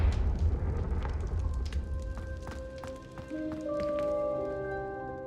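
Confringo spell blasts hit candelabras in Hogwarts Legacy: a rumbling boom with scattered crackling impacts, then ringing tonal chimes as the flames catch.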